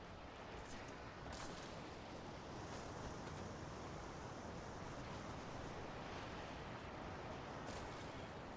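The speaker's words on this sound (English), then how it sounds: "Is that water just swirling into the air?" Magical water whirlpool swirling in a Dragon Age Veilguard game scene, a steady, broad rushing wash of water and wind-like noise holding level throughout with a few brighter surges, no talking.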